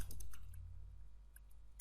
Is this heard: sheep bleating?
no